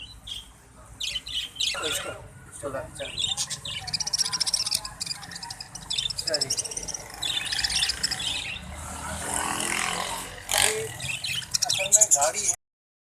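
Exhibition budgies chirp and squawk in a busy, continuous chatter of many birds at close range, with scattered sharper calls throughout and no clear speech.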